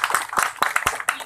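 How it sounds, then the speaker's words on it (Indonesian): Crowd applause at a community group's anniversary gathering in Blitar, a short burst of uneven hand clapping, close and fairly loud, with sharp individual claps standing out. "Tepuk tangan lagi."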